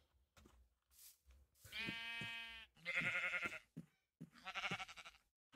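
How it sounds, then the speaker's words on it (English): Sheep in the Skyrim video game bleat several times in a row. The calls are quiet and wavering, with short gaps between them and no talking. "Oh, this sheep is."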